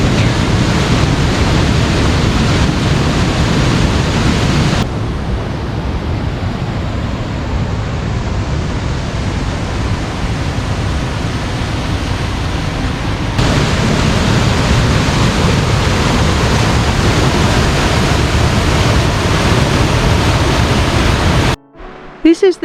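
The Sol Duc River in Olympic National Park's rainforest, where salmon fight their way upstream, rushes loud and close as a constant broadband roar, dipping briefly in level before surging back.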